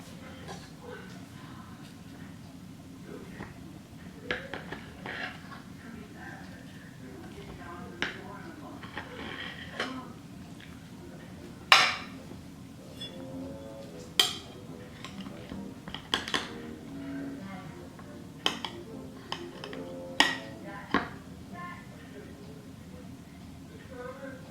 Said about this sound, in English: Now I'm going to cut into the cake and give it a try.